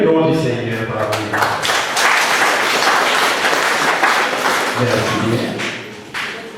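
A church congregation applauds during a funeral service, a dense, sustained wash of clapping that stays loud and close for several seconds, mixed with voices.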